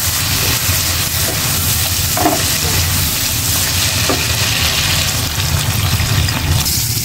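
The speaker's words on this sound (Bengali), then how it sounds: "এখন আমি জল দিয়ে দেবো।" Water hits a hot pan of sautéed vegetable curry, setting off a loud, steady sizzle and bubbling hiss that carries on throughout, with a few faint clinks.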